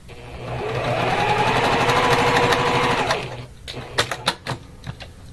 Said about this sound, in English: sewing on that outside edge a 1/4 inch away from the edge.